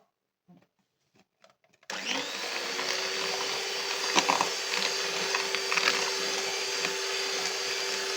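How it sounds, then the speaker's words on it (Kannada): An electric beater starts up and runs as a steady, loud, close whir for about six seconds, whipping cake batter with sugar at a single low speed for a bakery-style plain cake, with no talk over it. "ಇವಾಗ ನಾವು ಸ್ಟಿಫ್ ಆಗೋವರೆಗೂ ನಾವು ಬೀಟ್ ಮಾಡ್ತಾ ಇರಬೇಕು ಇದು ಒಂದೇ ನಂಬರ್ ಸ್ಪೀಡಲ್ಲಿ ನಾವು ಮಾಡಬೇಕಾಗಿರೋದು"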